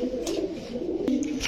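Pakistani pigeons of the 35-marked type coo in a low, rounded murmur at a loft, with a couple of brief higher chirps rising over it.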